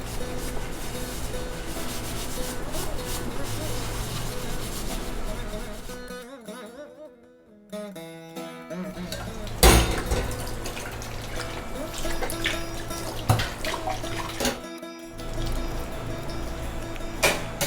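Dishes scrubbed with diluted Vim dishwashing liquid, a steady rubbing and scouring sound with water splashing and dripping and a few brief pauses.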